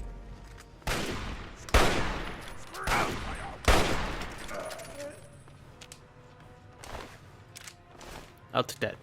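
Hunting rifle shots against super mutants in Fallout 3, several sharp loud cracks spaced a second or two apart, each with a short decaying tail, amid game sounds and some talk.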